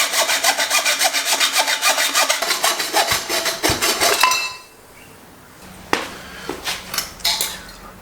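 Rapid, rhythmic rasping strokes of a saw cutting through a metal bike tube, loud and close, stopping midway, followed by a few scattered clanks and scrapes.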